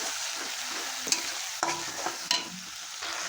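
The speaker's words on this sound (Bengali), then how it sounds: "মশলাটাকে এখন আমি খুব ভালো করে কষিয়ে নেব" Spice paste with tomato for a red mutton curry is stirred and fried in a pan, a steady close sizzle broken by a few sharp scrapes and clicks of the spoon against the pan.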